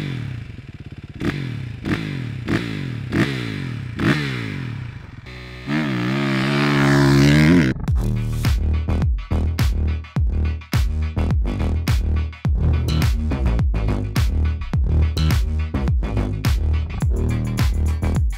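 Suzuki RM-Z motocross bike kicked over and ridden: a few sharp kick strokes, a brief idle, then loud, close engine revving with rapid repeated throttle blips and gear changes, no talk.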